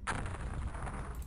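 Artillery piece firing in the strategy game The X-COM Files, a single heavy booming blast with a sustained rumbling tail, loud and close, no talk.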